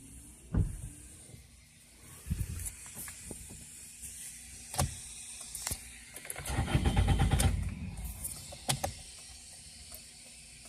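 A 2002 Toyota Corolla LE with a crank-no-start fault, heard as scattered clicks and clunks followed by a few seconds of whirring starter cranking that never catches, then more clicks; close and fairly loud, no talk.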